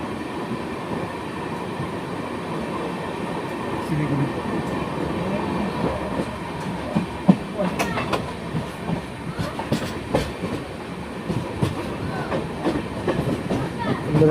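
The Sikkim Mahananda Express (15483) running on the Duars line past Sevoke station toward Siliguri: a steady rumble of wheels and carriages with clickety-clack rhythm and some sharp rattles, heard continuously from onboard.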